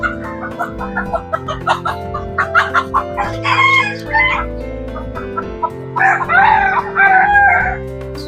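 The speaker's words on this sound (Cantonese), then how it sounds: "我聽到雞叫聲啊！" Chickens and roosters at a fruit orchard in Seremban, Malaysia, cluck steadily nearby. Loud, drawn-out crowing calls rise over the clucking twice, about halfway through and again near the end.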